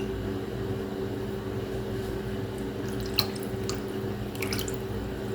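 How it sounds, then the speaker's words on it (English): Water drips onto a straight razor blade outdoors: a few faint, scattered drips and small splashes sit over a steady droning background, with no voices. "A little water on the blade."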